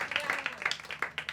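A small group claps in quick, uneven bursts, sharp hand smacks repeating close by for about a second in an office-style setting.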